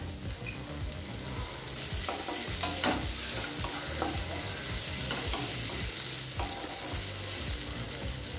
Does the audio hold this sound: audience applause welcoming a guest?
no